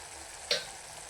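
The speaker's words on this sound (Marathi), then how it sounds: "तर बघा या मसाल्याला चांगले उकळी आलेले आहे" A spicy tomato masala for soya chunks bubbles in a pan, giving off one brief, sharp sizzling pop over a quiet, faint background.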